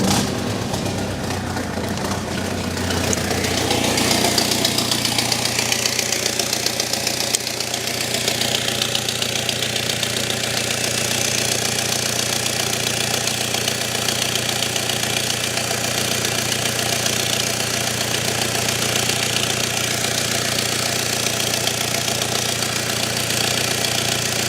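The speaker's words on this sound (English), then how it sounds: "You can hear there is a physical exhaust leak." A BMW engine idles steadily with an exhaust leak, giving a continuous rough drone with a ticking, knocking texture underneath. It is heard close up and alone, with no talking.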